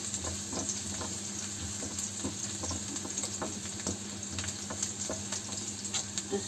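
Garlic and beef curry ingredients fry in a pan with a steady, close sizzle, broken by scattered clicks and scrapes of a spatula stirring.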